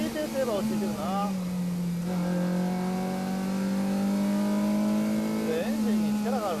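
A Honda Prelude's engine revs while the car is being driven, its steady, strong drone rising and falling in pitch over several seconds, loud and close, with occasional speech mixed in.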